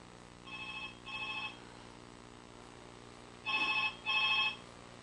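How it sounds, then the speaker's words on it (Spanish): A telephone rings in two paired bursts, each double ring trilling electronically, with a long quiet gap between them over a low steady hum; nobody speaks. "En cuanto suena el teléfono"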